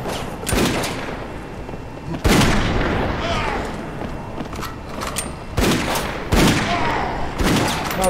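Gunfire in the video game Dead Second, with loud booming shots arriving in separate bursts and short quiet gaps between them.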